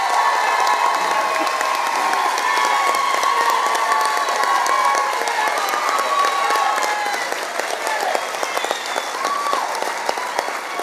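A large audience at a graduation ceremony applauds award recipients with sustained, dense clapping and light cheering that holds steady throughout and fades slightly near the end.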